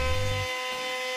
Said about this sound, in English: Here I'm using my router to make some trim to go on the cornice box.